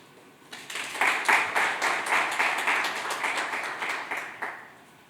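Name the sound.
audience applause after keynote speech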